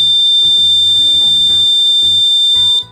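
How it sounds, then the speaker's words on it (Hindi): Steady electronic buzzer tone from a homemade electronic quiz board, sounding continuously for nearly three seconds over a busy backdrop of other tones before cutting off. "बजर बज उठा"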